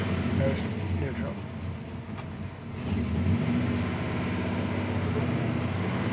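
A 1969 GMC K1500 four-wheel-drive pickup truck idles and runs at a steady low rumble close by, with a brief dip and swell in engine level while people talk over it.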